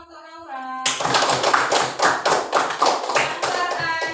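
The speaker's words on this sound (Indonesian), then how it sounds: "Kemudian beri tepuk tangan untuk Naura." A classroom of students claps for a classmate, a burst of brisk, rhythmic hand claps that starts abruptly after a short voice and continues steadily for several seconds.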